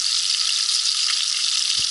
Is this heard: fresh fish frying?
yes